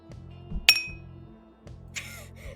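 A glass of water clanked loudly right in front of a microphone: one sharp, bright clink standing out over a quiet, steady background hum, with no talking.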